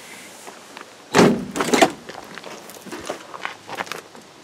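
A diesel Land Cruiser's passenger door, worn and only openable from the inside, gives a sharp metallic clunk and rattle, followed by fainter knocks and shuffling nearby.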